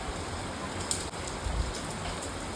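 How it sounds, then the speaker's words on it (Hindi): Very heavy rain pouring down, a dense continuous hiss of drops drumming on surfaces, loud and unbroken from start to finish. "बहुत तेज़ बारिश है, बहुत तेज़।"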